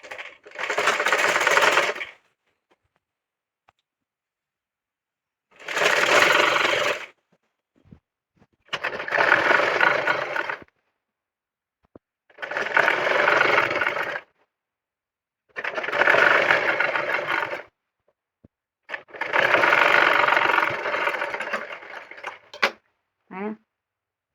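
A sewing machine stitching the folded quarter-inch armhole hem of a petticoat runs in six loud, close bursts of rapid whirring, each a second or two long, separated by silent pauses.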